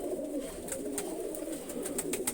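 Pigeons coo in a loft housing an old three-to-four-year-old bird among other pairs, a steady soft murmur of overlapping coos throughout, fairly close.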